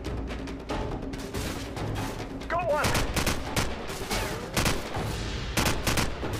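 AK rifle gunfire in the video game Call of Duty 4, rapid bursts of shots in close succession with some quieter background fire and a brief voice.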